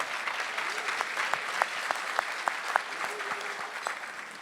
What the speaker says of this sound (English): Can we have a nice round of applause for JSL?